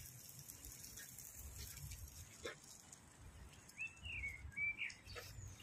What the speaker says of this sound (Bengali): যে পাখির শব্দ শোনা যায়।